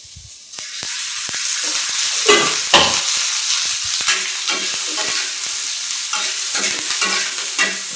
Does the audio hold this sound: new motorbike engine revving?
no